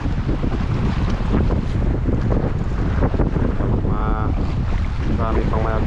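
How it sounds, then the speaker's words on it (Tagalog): Strong wind buffets the microphone on a rocky shore in a loud, continuous roar, with a few brief tonal whistles near the end. "Dahil medyo malakas na yung hangin."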